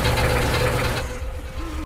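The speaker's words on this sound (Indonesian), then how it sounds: "Suara yang dihasilkan mesin cuci itu membuat kakek tidak bisa mendeteksi atau berfokus dengan pendengarannya" A washing machine running inside a house: a steady, loud mechanical rumble with a knocking churn that continues throughout and then cuts off abruptly near the end.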